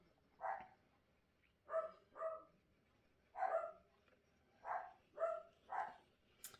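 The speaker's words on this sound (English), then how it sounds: "I have no idea what they're barking at." Dogs bark in a quiet room, seven separate barks in an irregular pattern, some in quick pairs, sounding fairly distant and moderately loud with no talking.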